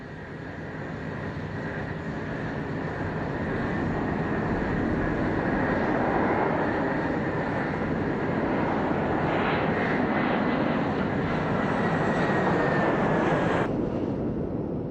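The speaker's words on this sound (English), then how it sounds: "Powered by 4 mammoth turbojets and with wings swept back at 35 degrees, the stratotanker combined power and speed" A Boeing KC-135 Stratotanker, a swept-wing jet with four turbojets, roars loudly and steadily, swelling as it nears, with a whining tone sliding downward near the end before the sound cuts off.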